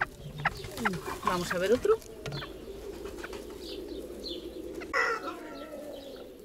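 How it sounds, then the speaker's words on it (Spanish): Hens and roosters in a coop cluck and coo, with a burst of louder calls and wing flutters early on, under someone talking nearby. "hay como 10 gallinas y 10 gallos"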